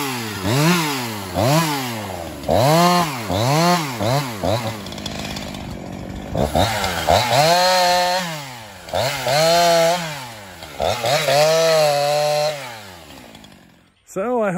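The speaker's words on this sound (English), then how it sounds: "this little video of the Husqvarna 350 making a little bit of firewood" A Husqvarna 350 chainsaw cuts firewood outdoors, its engine revving up and down in repeated loud surges as it bites into wood, with a brief idle lull midway before the cutting resumes, ending abruptly.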